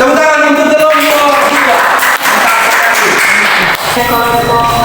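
Applause from a classroom of students clapping for a student group during a mathematics lesson, a dense burst of hand claps that swells and continues steadily for several seconds with some voices mixed in.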